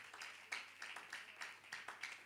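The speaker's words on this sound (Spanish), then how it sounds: "Dele un aplauso al Señor Jesucristo" A church congregation claps in a quick, steady rhythm for several seconds, each beat crisp and close but modest in volume, with no voices over it.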